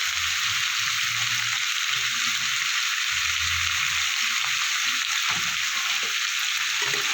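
Kohlrabi with salt and turmeric sizzles steadily in hot oil, a loud continuous hiss of frying with low scraping thuds of stirring underneath throughout.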